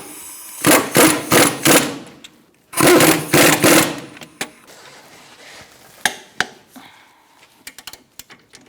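Brake caliper bracket bolts on a 2005-2010 Chrysler 300 are tightened in two loud bursts of rapid rattling, followed by scattered clanks and knocks of tools in a garage.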